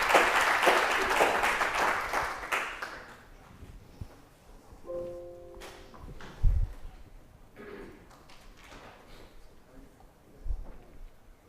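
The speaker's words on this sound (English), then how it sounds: "Another round of applause for speakers." Conference audience applauding speakers after a breakout session, a burst of clapping for a few seconds that quickly dies away, followed by quieter room noise, a few thumps and scattered movement.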